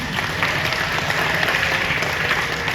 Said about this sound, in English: I want you to give the 6th grade a huge round of applause.